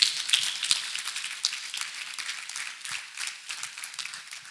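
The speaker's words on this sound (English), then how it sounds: "Let us clap for Master Jesus." A church congregation claps and cheers in praise, a moderately faint, steady patter of many hands lasting several seconds.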